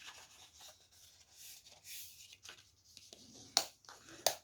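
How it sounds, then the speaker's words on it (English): A paper book cover is folded and then burnished, giving soft dry rubbing and sliding strokes that end in two sharp crisp creasing snaps, close and quiet. "Fold and burnish."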